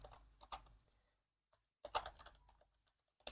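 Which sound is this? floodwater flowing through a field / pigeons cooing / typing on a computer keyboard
typing on a computer keyboard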